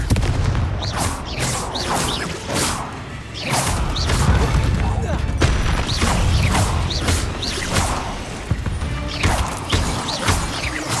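A Confringo spell blasting in the Hogwarts Legacy video game, heard as a run of sharp, loud explosive bursts and impacts repeating across the scene over a dense rumbling game backdrop.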